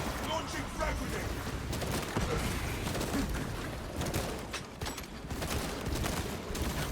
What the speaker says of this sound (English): Launching frag grenade.